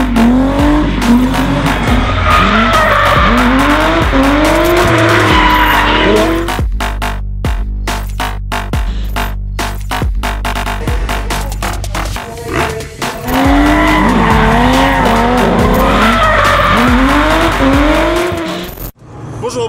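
Drift cars skidding and revving loudly at a Drift Cup event at the Anneau du Rhin circuit, with sustained squealing tires and roaring engines close by, a dip in the middle before the screeching returns.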